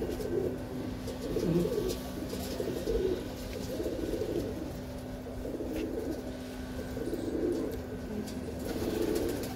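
Pigeons coo steadily in a loft, soft rolling calls repeating throughout, with a constant low hum underneath and no voices.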